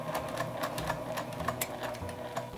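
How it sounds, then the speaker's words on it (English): A sewing machine stitches a seam on a double zipper pouch with a clear vinyl pocket, giving a steady, close mechanical whir with rapid rhythmic needle ticks throughout, no talk over it. "You're gonna pick up your stitching and complete the stitching line."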